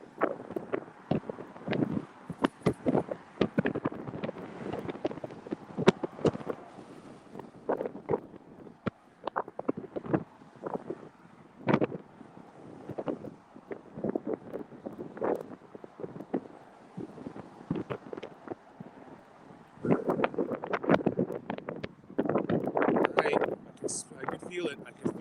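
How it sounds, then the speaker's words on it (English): Gusty wind buffets the microphone on a long bridge near the 7 Mile Bridge, a rough steady roar with stronger bursts toward the end, while a person talks over it. "Wind's coming at me"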